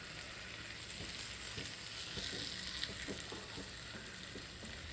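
Fish fries in a pan with a continuous soft sizzle and spatter, and a few light spoon scrapes occur as the pieces are turned. The sound is fairly faint, with no voices.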